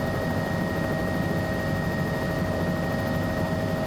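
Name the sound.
Bell 206L3 helicopter flying, from video game MSFS 2024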